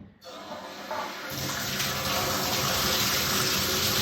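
Water pours from a PVC pipe tub spout in a log cabin, starting as a light trickle and swelling within a second into a loud, steady, full-flow rush.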